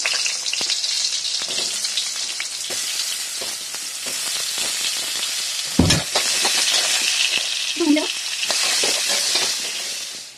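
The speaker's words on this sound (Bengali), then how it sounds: "আলুটা ভাজা হয়ে গেছে" Long-cut potato strips fry in hot oil for a rohu fish curry, a loud, continuous crackling sizzle up close, broken by a few stirring knocks and a brief clatter.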